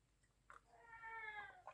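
A pet cat gives a single drawn-out meow with a rising and falling pitch, close and fairly quiet, framed by soft breathy sounds at each end in an otherwise quiet room.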